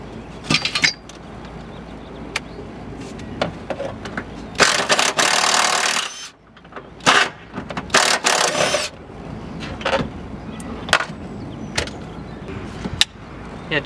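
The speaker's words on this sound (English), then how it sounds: "I just bought this attachment the other day for my Makita Impact, so I can fit on the sockets on there" A Makita impact driver fitted with a socket adapter works on a car during an S13 SR20DET drift build, firing in several loud rattling bursts of a second or so with quieter mechanical clicks and handling noise between them.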